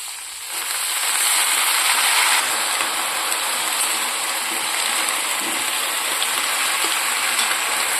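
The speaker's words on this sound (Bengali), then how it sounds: "এর মধ্যে আমি শাকটা তুলে দেবো শাকটা কিছুক্ষণ আমি ভেজে নেবো" Spinach dropped into a pan of already fried potatoes starts a steady, loud sizzle about half a second in, then hisses evenly throughout with faint pops and no talking.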